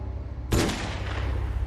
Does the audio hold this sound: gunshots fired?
yes